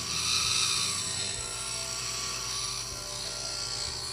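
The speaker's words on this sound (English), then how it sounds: "You can also use a sanding disc." A steady high-pitched whirring of a rotary sanding disc trimming a dental plaster cast, continuous and fairly close, with a low mechanical hum beneath and no talk.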